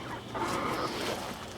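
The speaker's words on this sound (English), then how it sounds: "Okay, chickens." A few backyard chickens give soft, brief clucks over a faint outdoor background, fairly quiet and close.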